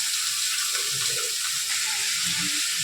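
Sliced ridge gourd fries uncovered in a pan over a high gas flame, giving a steady, close bright sizzle and hiss with faint stirring scrapes throughout.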